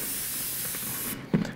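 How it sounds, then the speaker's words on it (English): Black sealer hisses from an airbrush in one steady spray onto a Bo-Katan helmet, then cuts off and leaves a brief low thump. "aim the airbrush away from any areas that are important"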